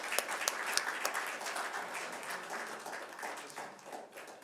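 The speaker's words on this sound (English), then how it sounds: "And one more round of applause." A round of applause from a crowd, dense clapping with a few sharp claps standing out, gradually thinning toward the end.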